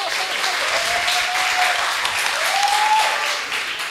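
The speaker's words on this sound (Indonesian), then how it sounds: "Tepuk tangan dulu untuk kita semua" Dense applause from a crowd, continuous clapping throughout, with a faint whistle-like tone rising twice above it.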